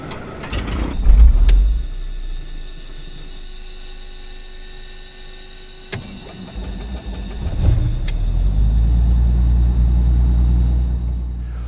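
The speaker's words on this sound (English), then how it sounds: "hear the starter solenoid and the magneto impulse couplings" A Beechcraft Baron or Bonanza piston engine in Microsoft Flight Simulator clicks and cranks, coughs, then catches and settles into a loud, steady rumbling idle, with sharp starter solenoid and magneto impulse coupling clicks along the way.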